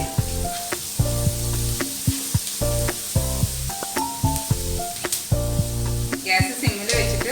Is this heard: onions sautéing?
yes